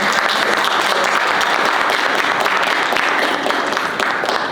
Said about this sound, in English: Let's give a round of applause to all.